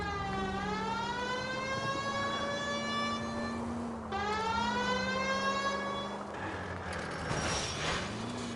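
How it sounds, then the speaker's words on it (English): A police car siren in the video game L.A. Noire wails loudly and steadily for several seconds in rising and falling sweeps, with engine and street noise underneath. "This would be a good time for the siren."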